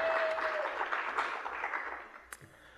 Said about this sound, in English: Can we get a round of applause for all the speakers so far?